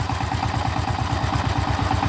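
A power tiller engine runs close up, a loud, steady rhythmic chugging with a regular low thump and metallic clatter, heard alone.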